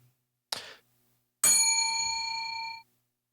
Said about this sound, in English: A bell for you.